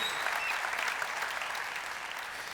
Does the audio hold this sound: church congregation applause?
yes